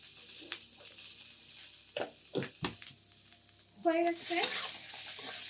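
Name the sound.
stirring egg chilli frying in a pan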